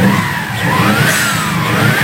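A rebuilt Subaru STI engine with a V6/RS motor revs hard close by. The loud, continuous engine note sweeps up and down with throttle changes over about two seconds.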